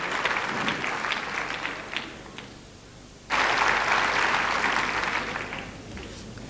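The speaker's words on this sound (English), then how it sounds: "And the applause will tell you." An arena audience applauds after a women's gymnastics routine at the 2000 Cottbus Grand Prix, sustained clapping that dips briefly mid-way, then surges back loud and full before tapering.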